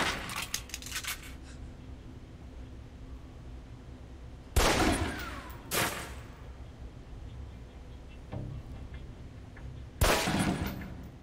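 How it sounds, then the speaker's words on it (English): Pistol shots fired down range at a target in the video game Alpha Protocol: three sharp, loud reports spaced several seconds apart over quiet ambient background. "Equip the pistol, then aim down range and take some shots at the target."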